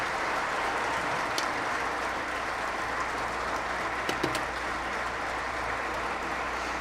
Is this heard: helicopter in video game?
no